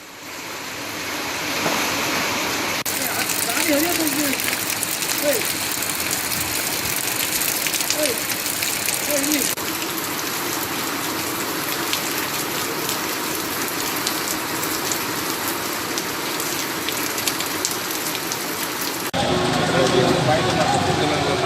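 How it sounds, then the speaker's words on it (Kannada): Heavy cyclone rain with wind roars steadily with a gusty, surf-like rush in Karnataka's Malnad region, and a voice talks over it for much of the time. "ಗಾಳಿ ಸಹಿತ ಜೋರಾಗಿ ಮಳೆ ಈ ಪ್ರದೇಶದಲ್ಲಿ ಅಂದರೆ ಮಲೆನಾಡು ಭಾಗದಲ್ಲೂ ಬೀಳ್ತಾ ಇದೆ"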